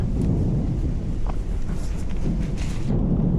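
Thunder rumbles during steady rain outdoors, a continuous low roar with a heavy rain wash on top, loud and near throughout with no talking.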